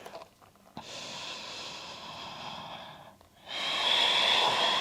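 Deep, steady breathing of someone holding downward dog during a vinyasa yoga practice: a long airy exhale, a short pause, then a stronger, louder breath close by, with no talk.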